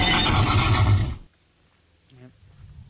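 A loud, close horse neigh plays as a meme in the video game The Daymare: 1998, a shrill whinny lasting about a second before cutting off abruptly, followed by a brief faint voice.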